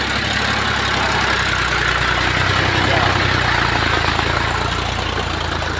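A tractor pulls a puddler through a flooded paddy field, giving a steady, loud engine drone with rumbling vibration throughout. The noise stays constant and close, with no clear speech over it.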